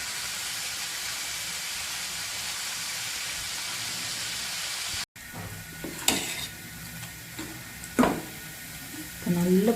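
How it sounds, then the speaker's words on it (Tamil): A banana kamarkattu mixture deep-frying in hot oil gives a loud, steady sizzling hiss for about five seconds. After a sudden cut, quieter frying continues with a few sharp clinks and scraping stirs. "நல்லா பொரிஞ்சு வந்துருச்சு"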